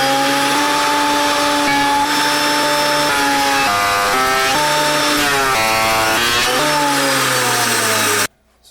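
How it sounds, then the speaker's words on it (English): Electric planer cutting wood, a loud, steady whine whose pitch sags and recovers as the blade bites into the board, running close by for several seconds before cutting off abruptly. "I'm going to look at how the wood reacts to the planer as I go"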